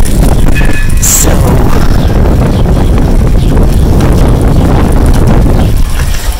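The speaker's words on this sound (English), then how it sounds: "It's quite breezy out." Wind blowing hard across an outdoor vegetable garden, a loud, continuous roaring rumble that buffets the microphone with no letup and no voices.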